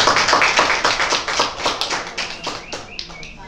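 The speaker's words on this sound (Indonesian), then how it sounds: "beri tepuk tangan semua" An audience applauding a presenter at a gathering, a lively run of close, sharp claps that gradually thins and fades over a few seconds, with no talk over it.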